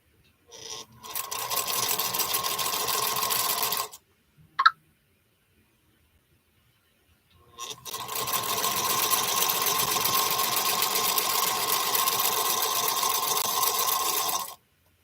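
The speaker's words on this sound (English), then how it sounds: "I really like sewing on this little featherweight." A Featherweight sewing machine stitches quilt fabric in two long, steady runs of even whirring, separated by a quiet pause with a single sharp click. The sound is close and moderately loud.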